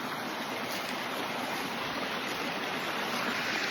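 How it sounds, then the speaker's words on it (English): A creek flowing outdoors in pre-spring weather, heard as a steady, fairly loud broadband rush of water that continues evenly throughout with no talking. "me and George walking by the creek,"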